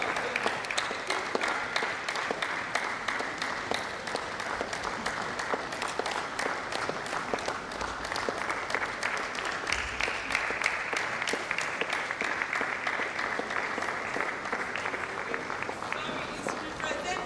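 Sustained audience clapping fills a hall at a university management sciences conference, a dense steady patter of many hands held at even loudness for the whole stretch, with faint voices beneath.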